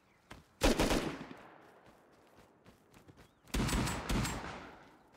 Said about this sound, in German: die sind aber nicht auf mich, die Schüsse